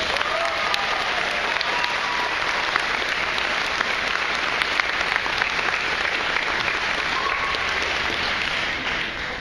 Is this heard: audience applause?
yes